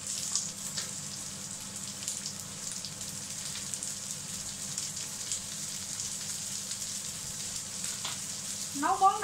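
Onions sizzle steadily in a hot pan as the base for a German kale (Grünkohl) dish, a soft, even crackle that continues throughout with a few faint clinks near the end.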